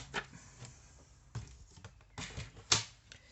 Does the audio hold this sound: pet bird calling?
no